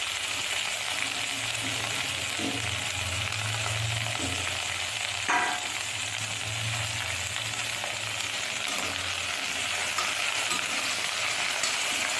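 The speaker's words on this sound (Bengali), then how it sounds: "আর এটাকে ভালো করে নেড়ে চেড়ে ভেজে নেব" Cut vegetables sizzle steadily in a pan while being stirred and fried, a continuous crackle with occasional spoon scrapes and taps and a low background hum, no voices.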